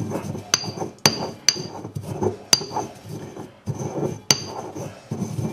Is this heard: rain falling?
no